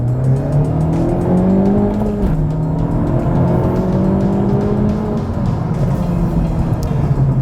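A 2019 Honda Civic Type R accelerating hard from inside the cabin, its engine droning and rising loudly through the gears while the front tires briefly spin and chirp.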